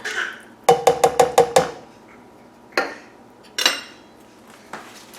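Tomatoes going into a pressure-cooker pot of beef soup give a quick run of five clattering knocks against metal, followed by a few scattered clinks and bumps in a quiet kitchen.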